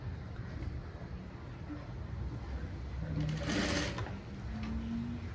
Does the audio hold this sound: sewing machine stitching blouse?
yes